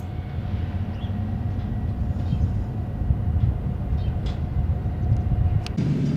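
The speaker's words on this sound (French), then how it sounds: "À mesure que le train progresse" A train rolls along the Trans-Siberian railway, a steady low rumble of wheels and carriages that holds even and continuous throughout with no voices.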